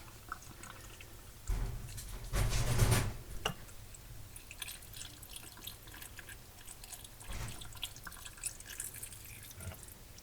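Water poured into glass jars of ham with a bone and scrap meat for canning, short splashing pours and drips close by, no talking.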